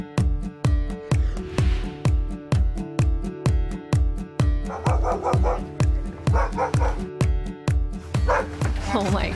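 Several dogs bark in rapid, loud, overlapping bursts from inside a shelter transport van, a relentless rhythm of barks with some yips and whimpers layered on top.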